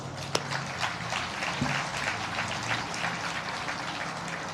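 Audience applause at a groundbreaking ceremony for the Armenian American Museum, a steady broad wash of clapping from a crowd filling the whole stretch at moderate level.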